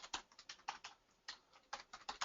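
Keys tapped on a computer keyboard while entering lettering in CorelDraw, a quiet, uneven run of light clicks in short bursts with brief pauses, close and alone.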